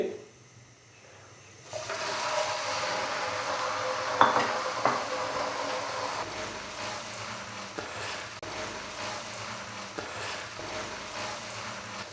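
About 800 grams of washed, drained chicken dropped into hot oil in a karahi: a sudden loud burst of hissing sizzle after a quiet start, with clattering pan sounds, then a steady frying crackle continuing to the end.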